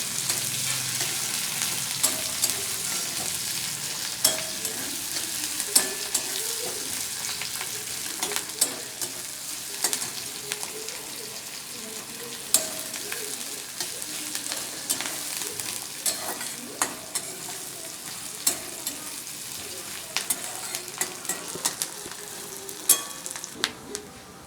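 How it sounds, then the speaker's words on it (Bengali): Chopped onion fries gently in a pan, a constant soft sizzle with frequent sharp clicks and scrapes of a utensil stirring throughout. "পেঁয়াজটা হালকা করে একটু ভেজে নেব"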